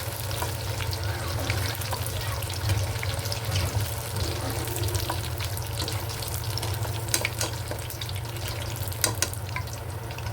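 Tofu fries in hot oil while a palabok meal is cooked. A steady, close sizzle carries on throughout with occasional small pops and a low hum underneath, and no one talks.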